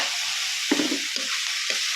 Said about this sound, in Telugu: ఆయిల్లో మగ్గాలని వేసేస్తాను